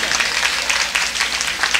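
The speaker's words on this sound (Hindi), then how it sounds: "जोरदार ताली बजाइए" A crowd at a Bhojpuri poetry gathering claps loudly, a continuous dense spatter of many hands filling the room, steady throughout.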